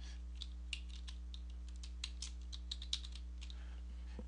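Keystrokes on a computer keyboard as a directory name is typed during a MobaXterm install, a quiet irregular run of light clicks over a steady low hum.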